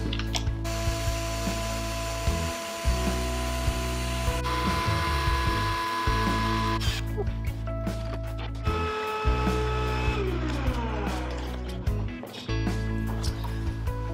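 A router fitted with a radius bit trims the edge of a wooden lazy susan, making a loud continuous whine with a steady tone that shifts slightly as the cut changes.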